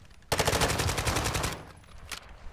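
Rapid automatic gunfire in the shooter game Warzone 2.0 DMZ, one loud close burst of about a second followed by a couple of isolated shots and fading echo.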